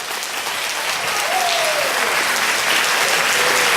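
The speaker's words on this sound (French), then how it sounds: "donc je voudrais qu'on l'applaudisse." Sustained applause from a seated crowd at a seniors' lunch in Mantes-la-Jolie, loud and even throughout, cheering the organizer with no talk over it.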